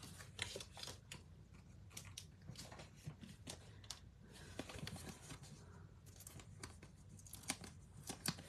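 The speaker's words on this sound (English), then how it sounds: "just trimming up our ribbon" Scissors trimming ribbon for a lavender craft project, a string of quiet, sharp snips and rustles spaced irregularly, close and faint, with no talking.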